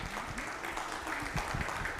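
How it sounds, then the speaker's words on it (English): Audience applause at a church gathering, a dense, fairly soft patter of many hands clapping steadily throughout. "Can we give them a word of applause?"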